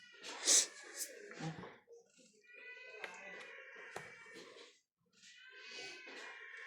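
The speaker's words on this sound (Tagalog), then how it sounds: "Hindi, pusa naman ata yun." A cat meows and caterwauls repeatedly in drawn-out, wavering cries, fairly close, with people chatting in the background during a Tongits card game.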